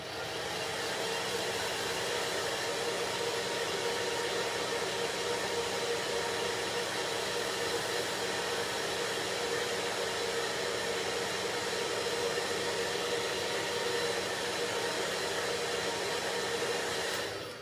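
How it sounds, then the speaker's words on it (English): A blow dryer drying chalk paint on a craft piece, a steady, loud, even whoosh of blowing air that runs unbroken for many seconds, with no talk over it. "I'm gonna hit this with the blow dryer"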